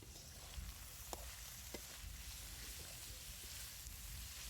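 Bitter gourd and onions frying together in a pan while being stirred, a steady soft sizzle with occasional faint scrapes and clicks of the spoon.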